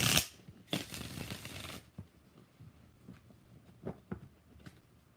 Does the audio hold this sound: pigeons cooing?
no